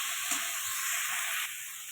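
Fish coated with turmeric and chili powder sautés in a pan, giving a steady close hiss of frying with a faint stir, dipping slightly quieter near the end.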